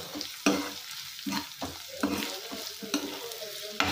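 Onions and coriander sizzle in a pan while a spoon stirs them. Sharp scraping strokes recur every half second or so over a steady close-up fry, with no talking.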